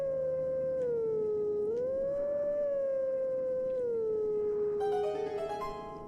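A sustained wolf-like howl from The Legend of Zelda: Twilight Princess glides up and down in the slow Song of Healing melody, clear and alone, with a bright chime-like shimmer near the end.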